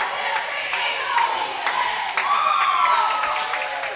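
Cheerleaders at a school volleyball game cheer and chant in a gym, voices overlapping with scattered claps and crowd noise, fairly close and lively throughout.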